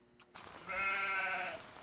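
A sheep on a farm in Farming Simulator 17 gives one drawn-out, wavering bleat at moderate volume against quiet background ambience.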